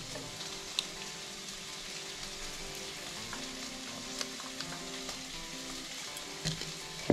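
Paneer pieces fry in a pan for chilli paneer, giving a continuous soft crackling sizzle up close with occasional sharper pops and a faint background hum.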